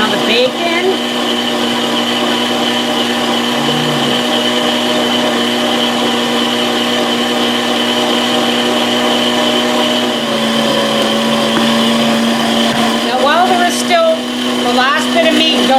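A meat grinder runs steadily while grinding smoked bacon for pork pies. Its loud, even motor whine and whirr carries on without a break, with a slight change in pitch partway through.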